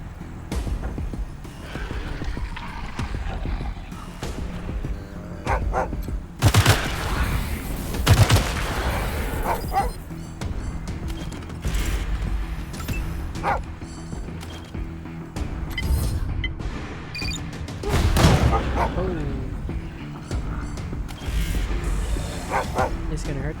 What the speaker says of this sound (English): The dog's gonna attack.